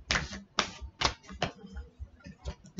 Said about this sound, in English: Just do a few more shuffles for Cancer from now till March the 15th.